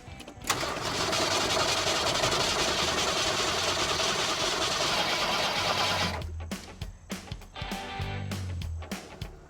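The engine of a 1979 Ford Ranchero Squire, with the fuel emptied, cranks loudly and continuously for about six seconds without catching, then stops, followed by a few sharp clicks and clunks nearby.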